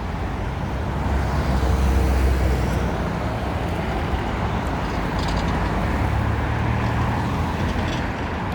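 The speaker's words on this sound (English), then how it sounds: "let you hear the traffic." Steady roar of city street traffic on Columbus Drive in downtown Chicago, with cars and buses rumbling past continuously at close range.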